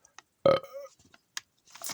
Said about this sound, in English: I think I've got another burp lined up